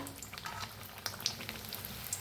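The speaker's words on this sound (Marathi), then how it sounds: "ह्याला बी छान असं तळून घेऊया" Batter-dipped bread pakoda frying in hot oil, a soft continuous sizzle with light crackles and pops, quiet and brief with no voices.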